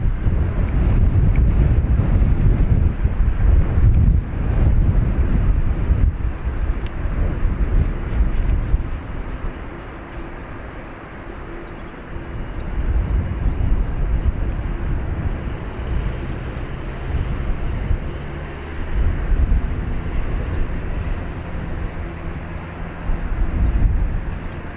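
Airliner taking off from a runway at Dublin Airport, a loud sustained low roar mixed with heavy wind buffeting on the microphone, easing in the middle and swelling again toward the end.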